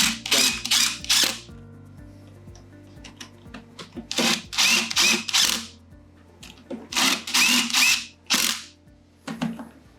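Screws being driven into the base of a Linemark iGo line-marking pump, heard as several bursts of a whirring power driver with short pauses between runs and light clicks.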